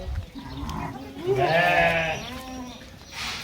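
A goat or sheep gives a loud, wavering bleat close by, followed by a softer second bleat over faint farmyard background noise.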